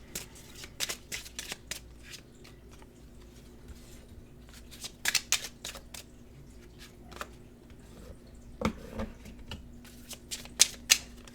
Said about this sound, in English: So I am going to pull cards here